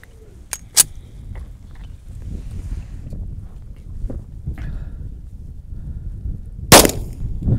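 Gunshots at a free outdoor gun range near Seven Magic Mountains outside Las Vegas: a couple of sharp cracks early on and one loud report near the end, over steady wind noise.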